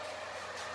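A compressed air dryer runs in a shop compressor room with a steady, even whooshing hum that stays constant and fairly loud across the brief moment.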